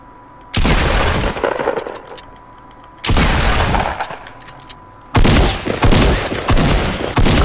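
Three loud bursts of hand cannon gunfire in the Fortnite battle royale game, each a sharp blast with a ringing tail, spaced a couple of seconds apart.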